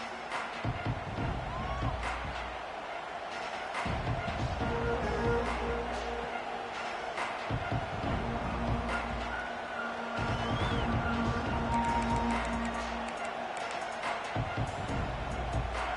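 A college football stadium crowd roars steadily at the start of a drive, a dense, continuous wall of cheering and noise that stays loud and unbroken throughout.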